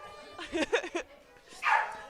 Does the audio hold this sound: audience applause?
no